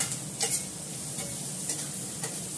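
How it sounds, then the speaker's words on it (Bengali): Onions frying in a pan for a fish curry, a steady broad sizzle with a few brief scraping stirs at a moderate, close distance. "ভালো করে আমি পেঁয়াজটাকে ভেজে নেবো একটু"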